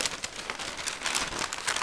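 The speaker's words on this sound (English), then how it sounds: "these beautiful porcelain plates are going to be put inside these not-so-beautiful paper bags that are indeed recyclable" Porcelain plates being slid into recyclable paper bags, giving crisp crinkling and rustling of paper with light scattered clicks, close up and continuous in short bursts, with no talking.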